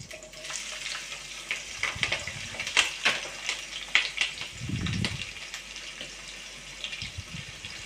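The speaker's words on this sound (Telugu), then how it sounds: "ఎరడాలకు వచ్చేదాకా వేపుదాం ఉల్లిపాయలు" Onions and green chillies frying in a pan with oil and spices, a steady crackling sizzle broken by scattered clinks and stirring scrapes, with a low thump near the middle.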